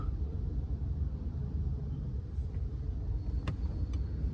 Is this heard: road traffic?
yes